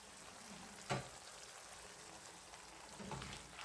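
Potatoes and onions fry in olive oil in a pan for a Spanish tortilla, a steady low sizzle with a sharp clack of a utensil being stirred through near the start and a softer scrape later.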